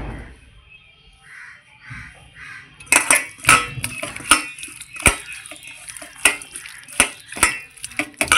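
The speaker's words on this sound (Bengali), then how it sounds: "আমি এখন কাঁচা সর্ষার তেল দিয়ে দিচ্ছি।" Mourala fish being mixed by hand with raw mustard oil in a bowl, a few seconds of quiet, then a run of irregular clicks and soft clinks, with crows cawing nearby.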